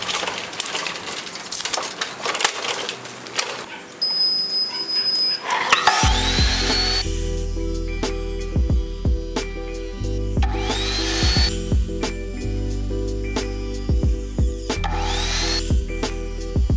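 A power tool cuts through tile, a sustained loud whining grind that starts abruptly after a quieter stretch of lighter tool noise and continues steadily, with pitch rising and falling as the blade works through the cut.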